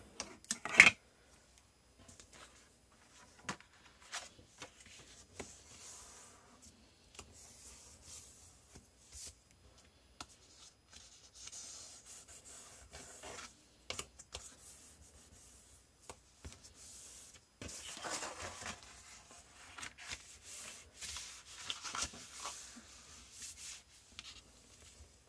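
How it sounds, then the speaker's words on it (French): Paper being creased and scored for a handmade mini album: scattered soft rubs, scrapes and light taps, close and quiet, spread unevenly over a long stretch with no talk. "Je viens marquer mes plis."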